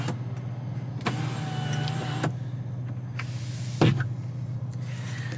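The electric power seat motor in a 2025 GMC Canyon AT4X crew-cab pickup tilts the seat with a steady low motor hum inside the cabin, broken by a few sharp clicks and one louder clunk near the end.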